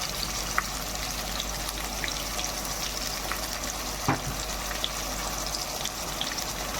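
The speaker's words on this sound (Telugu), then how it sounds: "బాగా వేగాలి." A ground onion paste cooks in a pan for a chicken fry, producing a steady low sizzle and bubbling hiss, close and continuous, with a few faint pops and one brief clatter, and no voices.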